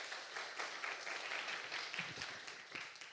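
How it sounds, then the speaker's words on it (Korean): An audience at a lecture on national energy policy and nuclear power claps in a dense, steady wash of applause, heard from a distance and fairly faint. "박수로 맞이해 주시기 바랍니다"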